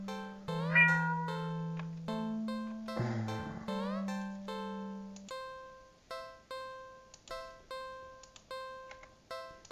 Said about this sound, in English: the cat meows almost pitiful at you